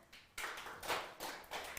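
A TED-Ed talk audience claps in short, scattered bursts, faint and a little uneven, with several separate waves of applause coming from the room.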